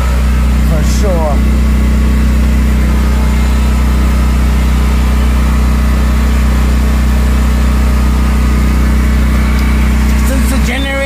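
A portable generator engine runs close by as a loud, steady low hum, with brief higher sounds at the start and end.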